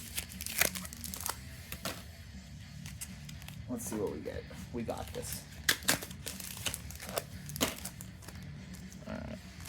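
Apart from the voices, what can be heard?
Yu-Gi-Oh card pack being torn open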